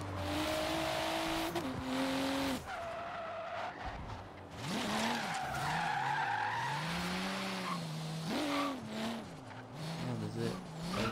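A loud race car in the Forza Horizon 3 video game revs up and down with shifting engine pitch and long tire squeals and skids, close and continuous throughout.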